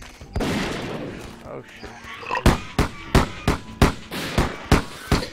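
In the video game Zeno Clash, a weapon with infinite ammo fires a steady run of about eight sharp, evenly spaced shots. An earlier rumble and a brief spoken exclamation come before the shots.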